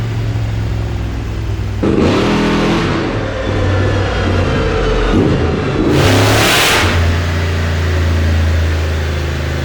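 A trophy truck engine revving on a dyno, a loud, close mechanical roar with a steady low drone broken by two sharp surges in revs, one around the middle and a brighter burst later.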